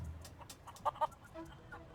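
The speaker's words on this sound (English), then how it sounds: "I like chickens. Plunder Island Feral Chicken." A feral chicken in the Curse of Monkey Island video game gives two short, close clucks in quick succession over a faint game background.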